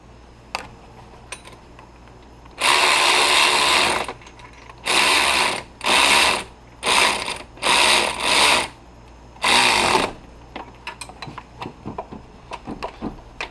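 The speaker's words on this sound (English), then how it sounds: "And we're gonna tighten the nut and push the bearing out." Ratchet wrench tightening a nut on a pulling setup to press out the clutch fan bearing of a VW Passat or Audi A4: loud bursts of rapid ratcheting clicks, one long then several short, followed by lighter tool clinks.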